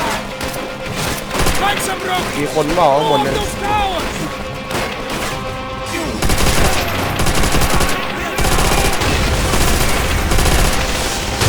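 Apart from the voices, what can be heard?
gunfire in video game Call of Duty: World at War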